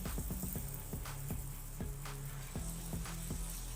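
Besan pudla batter sizzles and fries steadily on a hot pan over medium flame, with a continuous crackle broken by a series of regular light scraping or tapping strokes from a spoon spreading the batter.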